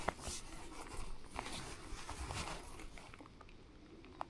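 Soft, steady patter of rain with scattered sharper drops, fairly close, no voices.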